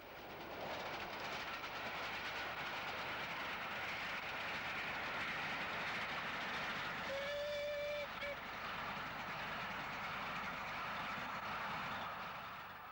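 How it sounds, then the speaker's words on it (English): A British Railways Southern Region steam train runs on the main line near Weybridge and Bisley, heard as a continuous loud rumble and clatter of moving rolling stock, with a brief whistle-like tone partway through. "BR Standard 460s, together with Maunsel's highly successful moguls, handled the bulk of mixed traffic duties in the last decade of Southern steam"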